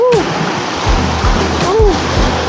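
A strong river current rushes in a loud, continuous wash of water, with people nearby whooping and shouting over it.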